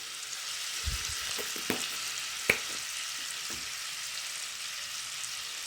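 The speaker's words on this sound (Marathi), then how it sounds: "आता या बटरमध्ये आपण थोडंसं हिंग टाकून घेऊया" Asafoetida sizzles in hot butter in a pan for green pav bhaji, a steady close frying hiss broken by a few soft clicks of stirring.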